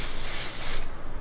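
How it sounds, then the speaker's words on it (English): A single close, loud hissing burst of wig wax aerosol spray on a wig, lasting under a second, then a quieter tail of hiss. "spray it with the wig wax"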